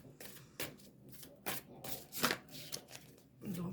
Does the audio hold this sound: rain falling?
no